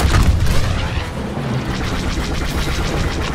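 Spaceships in a video game fire their guns in dense, rapid bursts. The barrage keeps up as a steady, crackling wall of blasts from start to finish.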